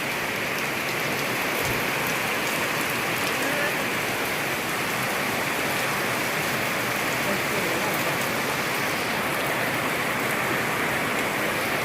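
Steady morning rain falls without pause, a dense, even patter of drops on surfaces close by that holds at the same level throughout.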